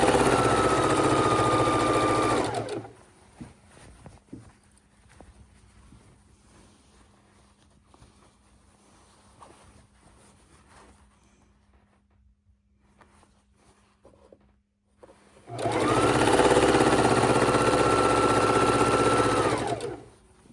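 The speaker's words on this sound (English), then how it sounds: "we can just sew straight down this piece" A sewing machine stitching a quilt runs steadily for a few seconds, stops, then starts up again after a quiet stretch of faint handling noises.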